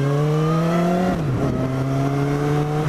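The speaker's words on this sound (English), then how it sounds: "I have a silencer in my exhaust at the moment, so it's not awfully loud" A motorcycle exhaust fitted with a silencer hums steadily at close range, its tone dipping briefly midway before settling back to an even, moderately loud drone.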